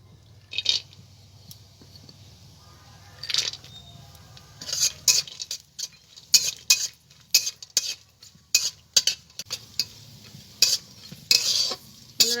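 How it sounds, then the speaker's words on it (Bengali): Cashews, almonds and raisins frying in ghee in a wok over a low flame for a mohan bhog sweet, with repeated sharp scraping and clinking of a spoon stirring in rhythmic strokes over a faint, soft sizzle. "এখন আমি এই কাজু, কাঠবাদাম আর কিশমিশগুলোকে ঘিয়ে ভেজে নেব।"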